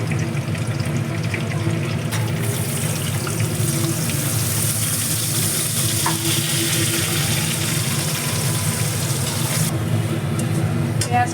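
Chopped onion and cumin seeds frying in oil in a pan for chicken biryani, a steady, dense sizzle running throughout with occasional stirring clatter.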